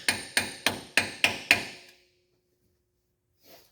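A socket is hammered to drive in a water pump seal on a Kawasaki Brute Force 750 ATV, giving six sharp, evenly spaced metallic strikes, loud and close, then silence with a faint rustle at the end.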